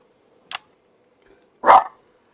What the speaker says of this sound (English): And a dog's barking.